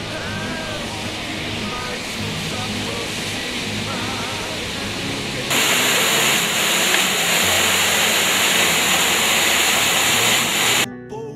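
A waterfall at Rainbow Falls (Cachoeira do Arco-Íris) near Monte Bonito gives a steady, dense rushing roar that fills the clip and swells louder about halfway through, with no clear speech.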